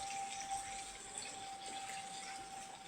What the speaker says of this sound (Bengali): তো হাতটা ধুয়ে নিই চটপট